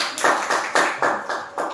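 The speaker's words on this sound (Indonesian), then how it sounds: "Tepuk tangan untuk kelompok 2" Students in a classroom clap for a presenting group, a short run of about six distinct bursts of hand claps in an uneven rhythm, fairly close and loud, with no talking over them.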